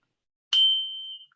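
A small handbell rings once to open a Rotary Club meeting, a bright, clear ding that rings out alone and fades over about a second.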